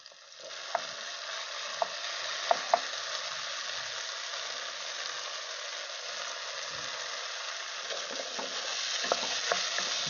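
A paste of ground white mustard and poppy seeds frying in a pan for a bhindi dish, a continuous moderate sizzle with occasional sharp clicks of stirring throughout, no voices.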